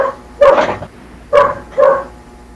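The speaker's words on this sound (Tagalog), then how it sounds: "Ingay naman ang aso yan." A neighbour's dog barks three times in short, loud bursts, two close together after a pause, nearby and clear with no voices over it.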